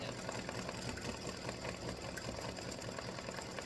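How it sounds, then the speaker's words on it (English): An embroidery machine stitches a bright orange band onto a lace witch-hat design, giving a steady, fast mechanical whir and rattle that runs unbroken throughout without any voices. "So it just stitches that little band on the hat."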